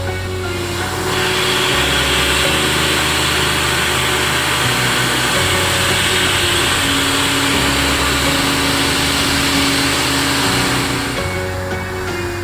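Multicut XF end mill cutting metal at 6,020 RPM and 19 inches per minute, a loud continuous high whine of the machining spindle with a harsh cutting hiss and shifting low tones throughout, no talk.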